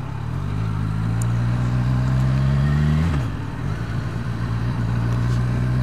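A Kawasaki Z1000SX motorcycle engine hums steadily at low speed, a smooth close drone with a brief throttle change midway and no talking.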